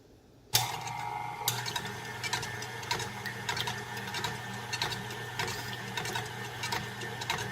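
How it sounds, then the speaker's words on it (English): Hand mixer on speed 2 blending mayonnaise ingredients, starting abruptly and then running as a steady, close mechanical whir with rattling beater ticks throughout. "You're going to want to put your mixer down into your ingredients. And I'm going to turn my mixer to 2."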